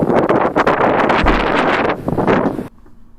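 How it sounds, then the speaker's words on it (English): Strong wind gusting across the microphone on an outdoor walk on a cold day, heavy buffeting bursts that swell and drop unevenly, loud and close, before cutting to near quiet at the end. "It's windy."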